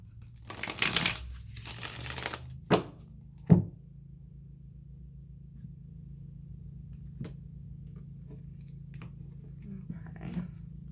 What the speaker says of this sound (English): One more shuffle and then I'll cut for Virgo.